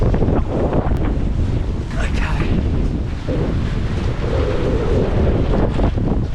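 Strong wind buffeting the microphone and waves rushing past a sailboat making 7 knots in 15 knots of wind: a loud, constant roar and wash, steady throughout, with someone talking over it.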